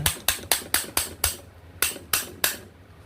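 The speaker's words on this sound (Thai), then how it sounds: "ค้อนตอกเข้าไปเลย" A hammer taps a part into an electric fan with a stiff, sticking shaft, landing about nine sharp metallic knocks in a steady rhythm with a short pause midway, close and clear with no talking.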